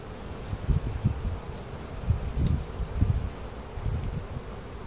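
Honey bees hum in a continuous low buzz around a hive, with a few louder passes of bees flying close by.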